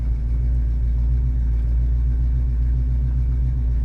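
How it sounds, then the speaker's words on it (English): A 1965 LongRoof car's engine rumbles steadily while driving, heard from inside the cabin as a loud, continuous low drone with a faint even pulse and no talk. "we should have pretty good car sounds from the setup too"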